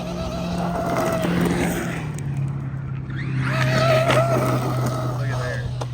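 A Traxxas E-Revo Momba brushless RC monster truck drives and launches, its electric motor whining as it rises and falls with a throaty rolling rumble beneath, fairly close.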